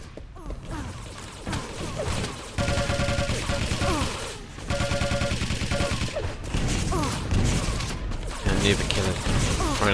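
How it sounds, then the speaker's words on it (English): Rockets fired in Quake Live during a competitive team deathmatch, repeated blasts and explosions over dense game weapon fire and clatter, with a commentator talking throughout. "throwing out some rockets"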